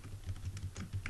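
Keystrokes on a computer keyboard while a service name is entered into a WordPress hotel booking form, a quick run of light, close clicks with no voices.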